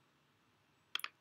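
A quiet double mouse click on a save button, two crisp close taps near the end after near silence.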